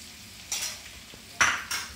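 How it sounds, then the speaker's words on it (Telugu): Chicken liver and pepper stir-fried in a pan, with a low steady sizzle broken by two louder bursts of scraping and stirring against the metal, close by and with no talking. "ఇప్పుడు దీన్ని మళ్ళీ మనము కొద్దిగా పెప్పర్ అంతా మిక్స్ అయ్యేలాగా ఫ్రై చేద్దామండి"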